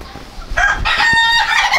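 White Faced Black Spanish chicken crowing loudly and close, a drawn-out crow with harmonic tones following a short cluck, heard alone in a backyard hobby setting.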